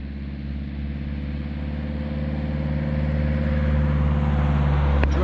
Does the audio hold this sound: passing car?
yes